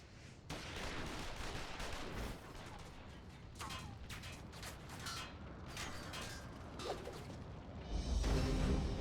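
Gunfire crackles through a Final Fantasy XIV Stormblood cutscene, rapid distant shots layered over mechanical clatter and creaks, steady and moderately quiet, with a louder rumble near the end.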